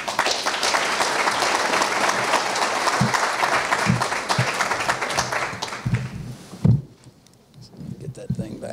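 Audience applause welcoming Tim Salmon onto the stage at a community address, a steady dense clapping that runs for about six seconds, then thins to scattered claps and quiet room noise.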